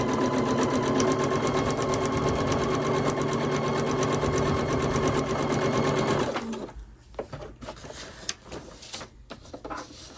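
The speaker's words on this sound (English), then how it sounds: "You just stitch along right on the line." Sewing machine stitching straight along a marked line on a quilt sampler block: a steady, close, rapid motor hum for about six seconds, then it stops and quieter handling rustles and clicks follow.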